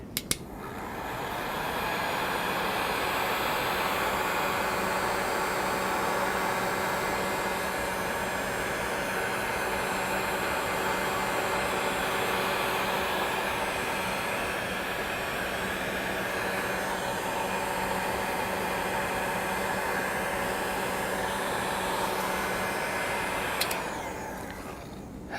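A hair dryer blows steadily to dry thick acrylic paint on a canvas, a constant close whirring rush of air that runs unbroken for about twenty-three seconds and then cuts off abruptly near the end.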